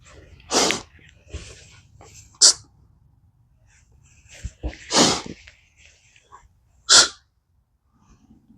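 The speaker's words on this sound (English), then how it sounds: "I'm going to exaggerate the breath" Exaggerated breathing during a hip extension exercise: a few sharp, loud exhalations and inhalations, spaced a second or two apart, with quieter breaths and shuffling between them.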